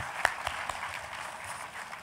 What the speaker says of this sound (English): please, a huge round of applause for Tansen Sen, Shyam Saran, and General J.J.